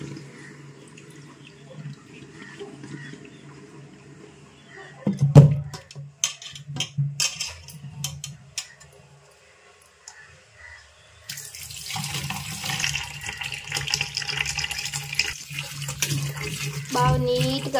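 Tap water runs into a sink while things are washed, coming in bursts with clatter early on and then flowing steadily and louder toward the end. Little or no talk is heard.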